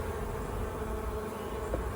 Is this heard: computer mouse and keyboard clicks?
no